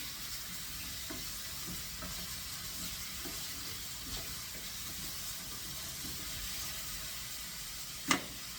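About a pound of mushrooms in a pan over the heat, giving a steady broadband sizzle with faint stirring scrapes and one sharp clink near the end.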